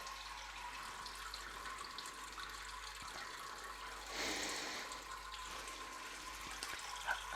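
Wort drains from a Grainfather G40 all-in-one brewing system during a bourbon imperial stout brew day, a steady close watery rush with a louder gush partway through, with no talk.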